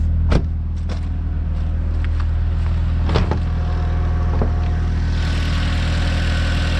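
A 1.8-litre turbo car engine idles steadily with a low rumble, close by, with a few sharp clicks and knocks over the hum.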